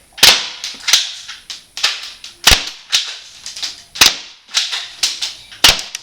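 A Mossberg tactical spring airsoft shotgun fires repeatedly, about eleven sharp, snappy cracks in a fairly steady rhythm, each followed by a short mechanical rattle, loud and close with no talking.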